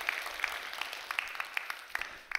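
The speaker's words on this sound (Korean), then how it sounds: "박수 한번 해주셔요." A small church congregation claps briefly and softly, a thin, scattered patter of hands heard at a distance.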